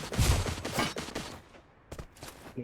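Bursts of gunfire in the battle royale game Free Fire, a rapid volley up front then a few scattered shots after a quieter gap, fairly faint.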